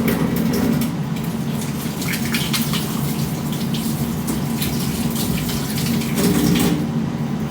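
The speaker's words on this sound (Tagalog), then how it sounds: "Hugasan ko lang pang kutsilyo." Water from a tap runs steadily over a kitchen knife being washed, a loud continuous splashing gush with slight changes in tone as the blade moves through the stream.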